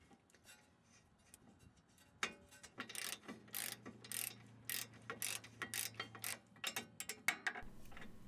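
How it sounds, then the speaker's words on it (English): A new brake caliper is bolted onto a Ford Mustang caliper bracket, heard as a quick ratcheting wrench that clicks in close, irregular bursts after a quiet start. "slide the new caliper and bolt it directly to the caliper bracket"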